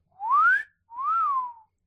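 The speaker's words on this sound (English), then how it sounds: "She whistled." Two clear whistled notes from a person, the first sliding upward, the second rising then falling, close and alone.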